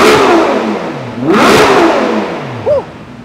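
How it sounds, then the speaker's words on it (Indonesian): A Ferrari 812 V12 engine revs hard toward 9,000 rpm, winding up to a high shriek, drops back, then surges again, loud and close with a brief squeak near the end. "Betapa cepatnya mesin ini revving."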